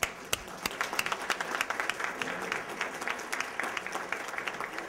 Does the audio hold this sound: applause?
yes